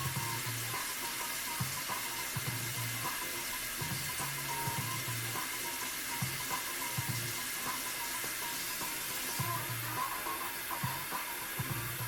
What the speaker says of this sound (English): we need another cup of hot water